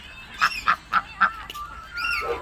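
A series of four or five nasal honking calls from ducks, including Goa ducks, in quick succession, fairly close, followed by a longer drawn-out call.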